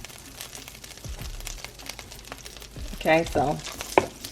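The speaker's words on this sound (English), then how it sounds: "we got our 2 sticks of butter in here, and we're gonna let that melt down" Two sticks of butter melt and sizzle in a pan, a soft steady crackle with a few sharper pops, while a person speaks briefly over it.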